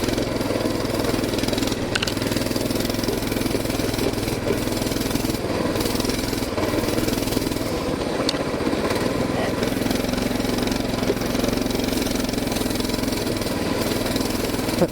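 A small mini bike engine on studded tires revs close by on a snowy, icy trail, a buzzing mower-like drone that rises and falls with throttle blips, with a brief voice early on.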